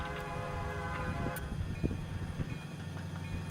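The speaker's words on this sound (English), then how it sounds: "I really think that sounds like a runaway train." A game locomotive on the B&LC Horsethief route throttles up to full power, a dense steady engine drone with a low rumble and occasional clanks, continuous and close, no talk over it.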